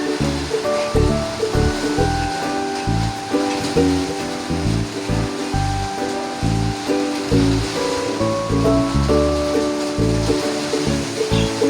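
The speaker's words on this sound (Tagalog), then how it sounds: "Malakas na yung hangin." Strong Super Typhoon Uwan wind roars in heavy, surging gusts, a dense rushing noise with a steady low rumble throughout.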